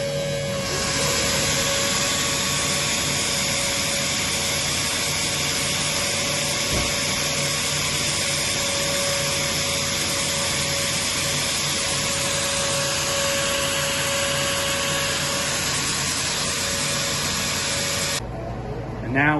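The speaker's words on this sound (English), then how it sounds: "Just to give you guys an idea how good that vacuum filter works." A vacuum filter runs steadily while maple syrup is filtered, giving a continuous close-up whine and hiss with little change that stops abruptly near the end.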